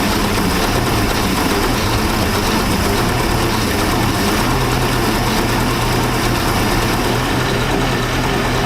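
The engine of a 1999 Chaparral 1930 SS boat runs at a steady, loud idle, a low rumbling drone with constant vibration heard up close and no talking.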